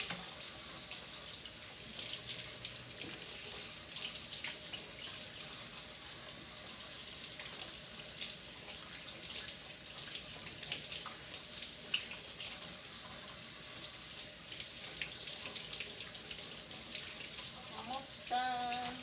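Kitchen tap water running steadily into a sink while thin pork chops are washed under it, a constant close splashing hiss lasting throughout, with faint clinks near the end.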